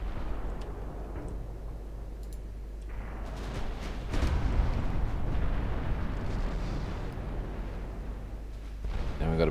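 Heavy naval gunfire from 11-inch guns in Ultimate Admiral Dreadnoughts, deep rumbling booms rolling continuously with a louder surge of blasts midway, dense and sustained with no talking.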